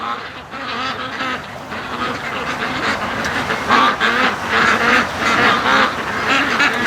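Ducks quack in a lively flock on a cold, rainy day, their calls overlapping in repeated bursts that grow louder and more insistent toward the end, with no talking.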